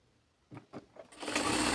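Sewing machine stitching the hem of a kameez, starting with a few separate short stitch pulses, then settling into a continuous fast whirring run close by.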